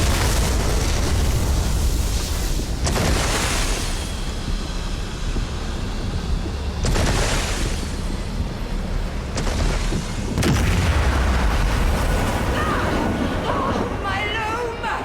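A destructive blast from the loom being smashed in Elder Scrolls Online, heard as repeated broad booming surges over a steady rumbling game soundscape, loud and close throughout.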